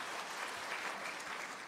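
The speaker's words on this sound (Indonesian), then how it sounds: "Tepuk tangan dulu untuk Elia ya." Applause from a congregation at a morning prayer service, a steady dense patter of clapping hands filling the room for a short stretch with no voices over it.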